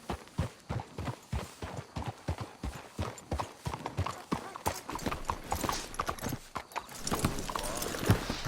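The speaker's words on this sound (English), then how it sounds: "Let's hitch the horses up ahead." Horse hooves clip-clop steadily in the Red Dead Redemption 2 video game, a rapid, even rhythm of close, crisp hoof strikes with an occasional whinny near the end.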